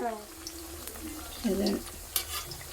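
Soft frying crackle of bonda in hot oil in a pan, with a few clinks and scrapes of a utensil, close by and fairly quiet.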